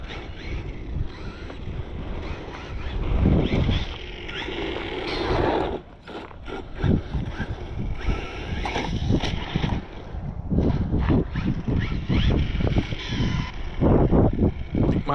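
An Arrma Bison RC car on a 3S battery drives with a worn differential, making a loud whirring, grinding drone that surges and cuts out in bursts, with wind buffeting the microphone outdoors on a sunny January day.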